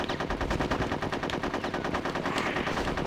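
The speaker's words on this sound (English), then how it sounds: "Which I can easily do by just shooting their heads." Rapid, continuous automatic gunfire from a war level in the video game Conker's Bad Fur Day, loud and dense throughout with no pause and no talking.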